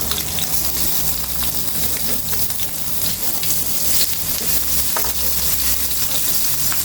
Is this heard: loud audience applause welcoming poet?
no